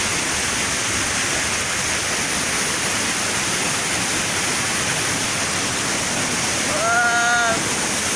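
A waterfall at Pangyan Falls in Davao Oriental sends up a steady, unbroken roar of rushing water, with a voice briefly rising above it near the end.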